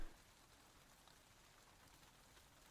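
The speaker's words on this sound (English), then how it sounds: "And the rain effect." Steady rain ambience from the video game Silent Hill 2, a faint, even hiss of falling rain that runs alone throughout with no speech, briefly swelling at the very end.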